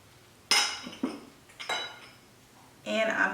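Dry ingredients, grated together, are tipped into a bowl, producing a few sharp clinks and knocks of utensils against the dish with a rustling pour at the end, fairly close and moderately loud.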